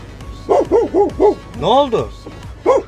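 A dog barks in a quick series of sharp, loud, close barks, a few short yips and then a longer drawn-out bark, while a voice speaks briefly.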